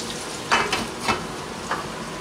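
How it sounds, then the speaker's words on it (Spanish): Chickpeas and garlic sauté in a pan, with a steady soft sizzle broken by a few short scraping stirs. "Y los dejamos que vayan rehogándose con el ajo poco a poco para que vayan cogiendo el saborcito"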